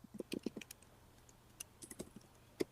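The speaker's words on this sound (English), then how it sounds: "you can hear her typing in the background" Someone types on a computer keyboard in the background, in faint, irregular clusters of key clicks with short pauses between bursts.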